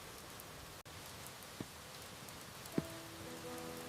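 Rain falls steadily outside a quiet countryside kitchen, a faint, even patter with a couple of soft knocks and a brief tone near the end.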